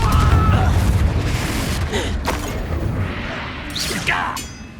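Confringo fire spell blasting in the game Hogwarts Legacy, a loud booming burst up front that rolls into a dense, rumbling roar, with a few sharper whooshing flares later on.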